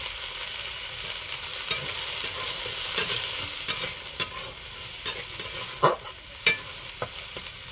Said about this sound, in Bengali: ঢাকনা দেব না, এভাবে ভেজে নেব। গাজর এবং মটরশুঁটিগুলো ভাজা হয়ে গেছে